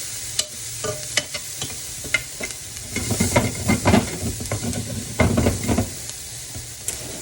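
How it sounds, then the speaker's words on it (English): Seasoning being stirred through food in a frying pan, a utensil scraping and clacking steadily against the pan over a continuous sizzle, close and fairly loud. "I'm gonna mix so everybody gets seasoning"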